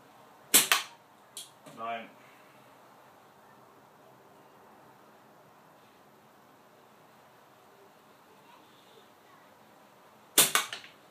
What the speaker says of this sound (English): 10 shots, 10 metres, 10 hits on a little small bean can.